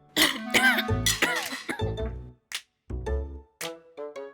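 A burst of harsh, repeated coughing and throat clearing comes up close, broken by short pauses and a few gasping breaths.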